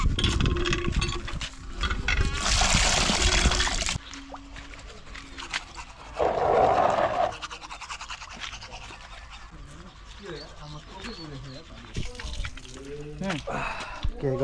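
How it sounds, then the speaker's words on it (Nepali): Teeth are brushed with a toothbrush and water, heard as bursts of close scrubbing with rushing water and quieter gaps between them, while a voice speaks now and then. "एकछिन ब्रस गरौँ"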